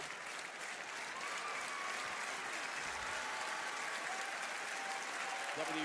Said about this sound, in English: WWE fans applauding this great matchup for the Women's Intercontinental title